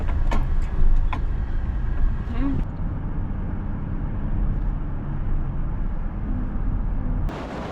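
A car cruises along a scenic drive in Northern Michigan, its steady low road and engine rumble continuous from inside the cabin, with some brief knocks early and a sudden drop in noise near the end.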